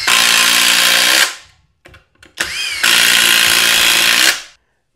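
A FLEX power tool drives a six-inch timber lock screw into wood, two loud sustained bursts of whirring motor noise separated by a short pause with a brief rising spin-up whine between them.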